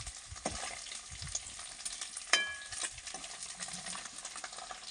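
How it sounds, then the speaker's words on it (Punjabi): Paneer frying in hot oil for an aloo paneer curry, a steady close crackling sizzle with a sharper spatter or clink of a utensil midway, no voices. "ਲਓ ਜੀ ਦੇਖੋ ਪਨੀਰ ਆਪਣਾ ਫਰਾਈ ਹੋ ਗਿਆ"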